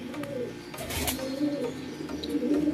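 Solo-sola pigeons coo in low, soft repeated calls close by, with faint rustling and background noise and no talking.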